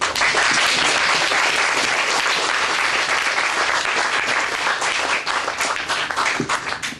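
A large audience after a debate breaks into loud, sustained applause, dense clapping filling the whole stretch and thinning slightly toward the end.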